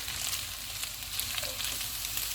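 Chicken, onion and carrot fry in a pan with a continuous, even sizzle and a soft hiss, steady throughout these couple of seconds with no speech.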